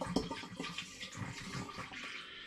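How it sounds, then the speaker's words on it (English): Water is poured into a glass demijohn while home brewing elderflower and rhubarb sparkling wine, making a faint, continuous splashing and gurgling trickle throughout. "I'm going to put a bit more water in there just to raise the physical volume."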